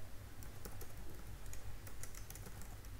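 Keys on a computer keyboard being typed in a fast irregular patter of light clicks, faint under a steady low hum, with no talking.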